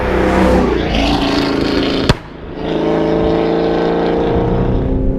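The loud engine of a modified 550 WHP Chevrolet Camaro ZL1 drones steadily, cuts out abruptly with a sharp exhaust crack, then builds back up into a sustained roar.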